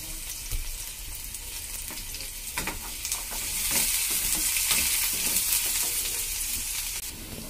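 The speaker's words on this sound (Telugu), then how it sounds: "ఆనియన్స్ ఫ్రై అవుతున్నాయి కదా." Onions and green chillies frying in about two tablespoons of hot oil in a pan, with a steady close sizzle and occasional scraping stirs, growing slightly louder midway.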